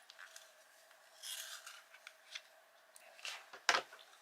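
A coloured pencil in a Tagal sharpener gives quiet, soft scraping and rasping strokes in short bursts, ending in a brief sharper click near the end.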